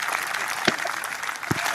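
Spectators at a golf tournament clap and cheer in a brief burst of applause, with a couple of sharper claps standing out and light crowd murmur beneath.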